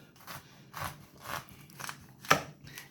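Sharp knife slicing down through the middle of a whole cauliflower to cut thick steaks, giving a few soft crunchy cuts and then one crisp, louder snap near the end, close up with no talking.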